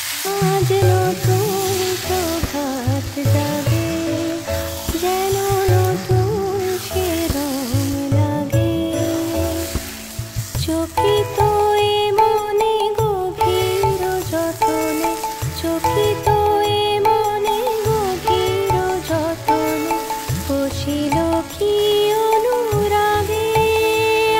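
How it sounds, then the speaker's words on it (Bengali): Mutton cooks down in a pan with fried onions, turmeric, coriander and a ground yogurt-and-tomato paste. Steady sizzling and stirring scrapes continue throughout under other sounds in the kitchen. "দিয়ে সব একসাথে কষা করবো।"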